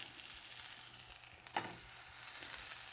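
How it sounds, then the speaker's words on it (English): Tomato slices coated in Old Bay batter frying in butter, a soft continuous sizzle heard up close with a brief clunk or spatter in the middle. "Just going to fry each side"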